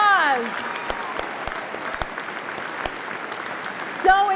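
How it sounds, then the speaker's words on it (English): Audience applause for a sponsor at the Thrive 2025 event, a thin, scattered clapping bed with sharper individual claps, bracketed by a speaking voice at the start and end. "A huge round of applause."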